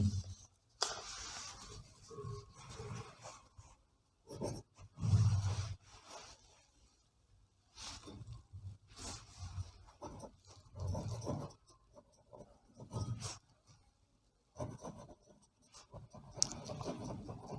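Pen scratching across paper while working out an arithmetic progression problem, quiet close strokes in irregular bursts with short pauses between them.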